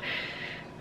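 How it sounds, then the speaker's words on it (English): A short, close breathy intake through the nose, a single sniff-like rush of air amid wildfire haze, with no talking. "clearing his throat and sniffing in the background"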